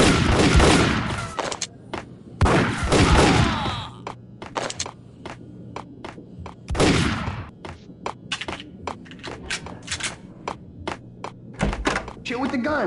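Gunfire in the Max Payne video game on Android comes as a string of sharp, thudding shots, some in quick bursts and others isolated, with speech between the volleys.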